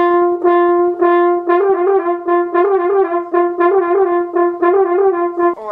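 Horn playing a lip trill exercise, a steady sustained tone that flutters rapidly between neighbouring harmonics in repeated rising figures, close and clear with no talking.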